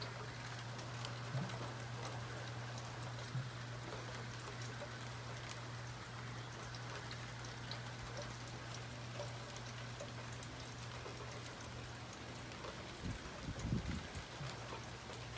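Light rain falls steadily on a street, a soft even patter with scattered drops and a constant low hum in the background, without thunder.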